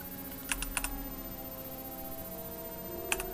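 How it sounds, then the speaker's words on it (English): Sparse mechanical keyboard clicks from red switches, a quick cluster of keystrokes followed by a pause and a couple more, faint over steady background hum. "What keyboard switches do I have?"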